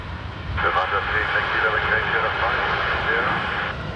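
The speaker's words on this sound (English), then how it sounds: "We have an ATR next from Leeds" An ATR turboprop airliner at Dublin Airport on a wet, gusty day, its steady engine drone rising and holding near and loud for several seconds over wind noise, with a radio voice talking underneath.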